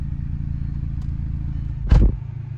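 A cheap auction car's engine, running with no exhaust, idles roughly with a pulsing, throaty low drone, broken by one brief louder clunk.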